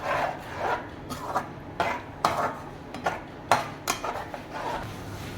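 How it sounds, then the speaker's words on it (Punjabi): A spoon scrapes and rasps around a pan, stirring water into a tempering for a bottle gourd and paneer curry. The strokes are irregular and close, heard alone without talk. "ਪਾਣੀ ਪਾ ਕੇ ਆਪਾਂ ਚੰਗੀ ਤਰ੍ਹਾਂ ਮਿਕਸ ਕਰ ਲਾਂਗੇ ਫਿਰ ਆਪਾਂ ਤੜਕੇ ਨਾਲ ਆਪਾਂ ਭੁੰਨ ਲਵਾਂਗੇ"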